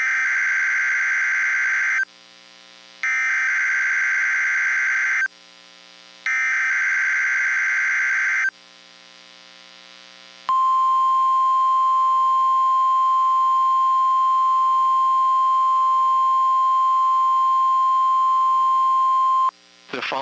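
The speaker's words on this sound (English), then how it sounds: "This is a test of the Noaa weather radio warning alarm device and emergency alert system" Weekly NOAA weather radio warning alarm test: three loud bursts of harsh data-style tones with short gaps, then a long steady alarm tone held for about nine seconds, ending abruptly.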